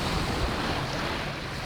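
Rough, sloppy open-ocean swell rolls and sloshes around a sailing boat crossing the Indian Ocean, with steady wind buffeting the microphone in a continuous, fairly loud wash and no talk.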